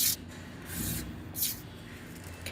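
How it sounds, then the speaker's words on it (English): Hand sanding of a patched wall surface during house remodeling, heard as a few short, close scratchy rubbing strokes with broad hiss, separated by quieter pauses. "So I sanded it down."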